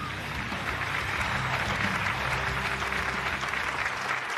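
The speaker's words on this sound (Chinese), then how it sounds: "掌声送给陈启" Sustained audience applause for Hong Kong boxer Chen Qicong at a kickboxing event in Portugal, a steady, dense wash of clapping from a large crowd with a faint voice underneath.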